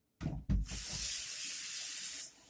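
Tap water runs into a container to be used for coffee, starting after two quick clunks and then a steady, close hiss that stops abruptly.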